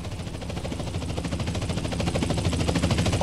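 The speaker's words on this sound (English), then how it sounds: "Chopper inbound!" A helicopter in the video game GTA San Andreas closes in with a steady, rapid rotor chop that grows slightly louder across the clip, alone with no talk.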